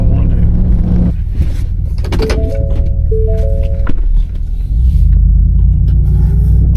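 A truck drives down a road with a loud steady engine rumble and road noise throughout, a brief jangling and tonal whine in the middle, and no talk.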